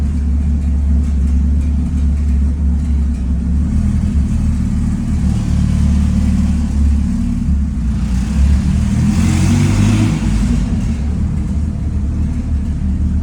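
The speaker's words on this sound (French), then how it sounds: "C'est vrai qu'elle marche la voiture." A Peugeot 309 pulls away in first gear, its engine droning in a loud, steady rumble from inside the car, rising slightly in the middle, with no talk over it.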